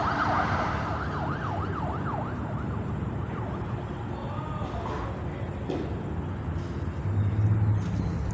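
A police siren wails in a rapid rising-and-falling pattern over steady road traffic, then fades as the vehicle moves away.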